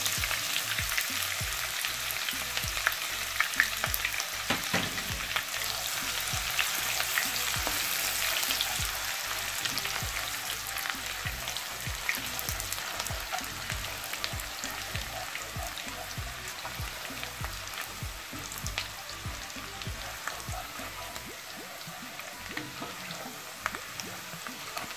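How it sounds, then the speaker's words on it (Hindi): Finely chopped onion fries in hot oil for curry pakora, a continuous dense sizzle with crackling pops, steady and close throughout. "उसके बाद हम ये बारीक कटा हुआ प्याज डाल देंगे,"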